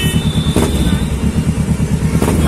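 A Kawasaki Ninja 650R superbike engine rumbles steadily and close by for a few seconds, with a low throbbing drone and no talking.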